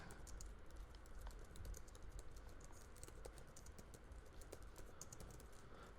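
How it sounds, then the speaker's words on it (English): Rapid, continuous keystrokes clatter on a computer keyboard, quiet and close, with an uneven typing rhythm throughout. "Give it a title, and then you just start typing."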